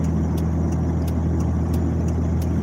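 A car engine acting up while driving, apparently from a fuel problem, gives a steady, loud interior drone and road rumble with faint periodic ticks.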